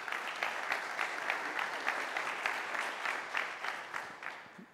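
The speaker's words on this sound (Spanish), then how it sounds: "les pido un fuerte aplauso para ellos" Applause from a conference audience at a panel discussion, steady dense clapping sustained throughout, fairly close and loud, with no talk over it.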